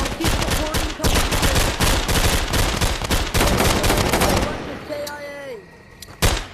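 Rapid gunfire in the Tactical Assault VR video game, dense bursts of automatic shots crackling loud and close for several seconds, then a lull with sparse pops and one last sharp shot.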